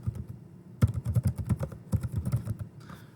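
Fast, steady clatter of keys being typed on a computer keyboard, close and fairly quiet, with a brief pause before the keystrokes resume in an even rhythm.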